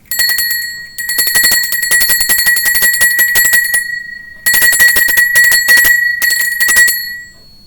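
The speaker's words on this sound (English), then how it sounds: "Group 2 is the medium bell." Medium-pitched bell rung in fast repeated strikes, forming sustained ringing bursts broken by brief gaps, loud and close with no voices.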